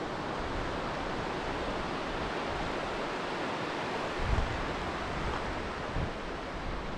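Creek flowing through a creek bottom in Emigrant Gulch, a soft, steady broadband rush of water at moderate distance, with a couple of faint low thumps near the end.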